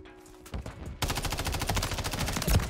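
An MTZ 556 rifle fires in Modern Warfare 3: a few scattered shots open, then a loud, fast, continuous automatic burst runs to the end, close and alone with no talk.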